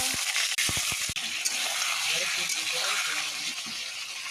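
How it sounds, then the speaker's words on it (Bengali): Whole potatoes frying in hot oil with dried red chillies, bay leaves and five-spice, a dense steady hiss and sizzle broken early by a few sharp knocks of utensils against the pan. "আলু ভাজবো গোটা গোটা"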